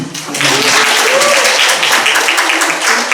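Welcoming applause from a congregation at a church anniversary worship service, a steady burst of clapping with some voices mixed underneath.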